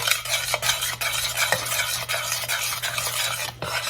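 A spoon works a freshly added large egg into thick chocolate-chunk brownie batter in a bowl, giving steady close scraping and sloshing strokes with periodic sharp knocks against the bowl, no voices.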